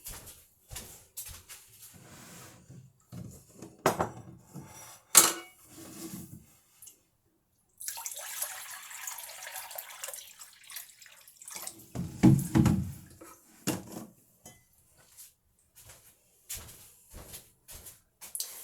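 Water poured for a green smoothie: a steady, several-second splashing pour midway, framed by close clunks and knocks of containers being handled.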